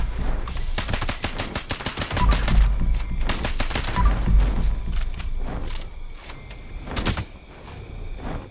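Rapid bursts of gunfire in the video game Fallout 76 fired at Scorch Beasts, with clusters of sharp, loud shots in quick succession, short pauses between bursts and a final lone shot near the end.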